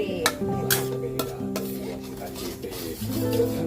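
Curry paste is stir-fried with coconut milk in a pan for a river snail curry, a utensil scraping and clinking against the pan in a few uneven strokes, close by, under a soft tonal background.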